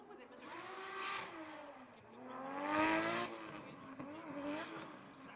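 Drift car launching off the line at a British Drift Championship qualifier, engine revving up and down in swelling waves with tyre squeal, heard at a distance over crowd and track ambience.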